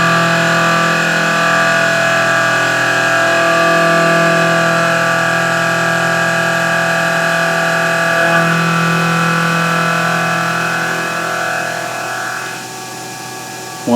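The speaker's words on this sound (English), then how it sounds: "I have a mist coolant system running, so it's blowing air with just a little bit of coolant lubricant" Machining a wheel adapter with a mist coolant system running, blowing air and a little lubricant onto the tool; a steady loud mechanical drone with tonal whine holds throughout, easing slightly near the end.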